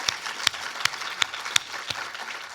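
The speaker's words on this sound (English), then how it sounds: "I'll give you one more round of applause." At an awards show, the audience gives one more round of applause. Fairly soft, steady clapping runs throughout, with a few sharper individual claps standing out at roughly regular intervals.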